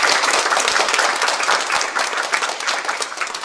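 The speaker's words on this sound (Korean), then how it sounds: "여러분 박수 이렇게 한번." A church congregation applauds after members take their vows at a Korean church service, a steady dense wash of many hands clapping at once, close and even throughout with no talk over it.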